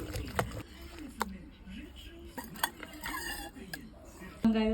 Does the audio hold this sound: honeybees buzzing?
no